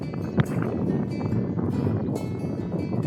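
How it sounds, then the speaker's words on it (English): Wind gusts steadily across the microphone at Holehaven Creek on Canvey Island, a continuous rough, buffeting roar with a few faint knocks and no talking. "wind's got up"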